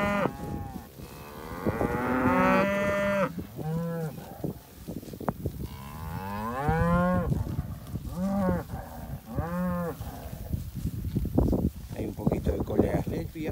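Cattle on a rational-grazing pasture give several loud, drawn-out moos in a row, some near and some overlapping, amid wind and occasional talk.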